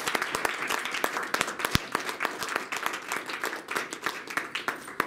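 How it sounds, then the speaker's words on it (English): An audience claps after a department seminar, a dense stretch of applause with sharp individual claps standing out, fairly close and steady throughout. "let's give all the people another round of applause."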